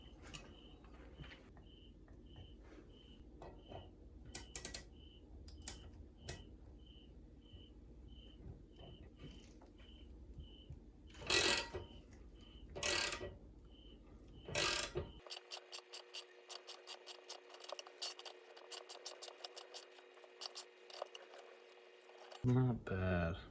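A ratchet wrench clicks as it tightens nuts on threaded bars for a railroad coffee table, with rapid close pawl ticks in runs and a few louder bursts, and a person talks between the bursts.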